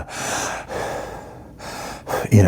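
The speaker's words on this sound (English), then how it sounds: "watching her hear the heavy breathing" Loud, heavy breaths in and out close to the microphone, ending in a sharp gasp.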